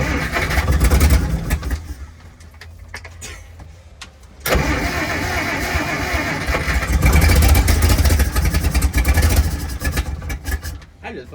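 A long-parked Jeep Forward Control engine runs loud and rough near at hand, dipping briefly then surging back to a sustained, throbbing full-throttle roar that fills the whole stretch.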